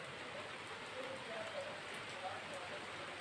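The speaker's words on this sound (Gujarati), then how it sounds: "આમ જોઈ લો વરસાદ પણ હજી ચાલુ જ છે" Rain falls steadily on a courtyard in Kutch, a faint, continuous hiss of drops with occasional brighter splashes, while a person talks quietly over it.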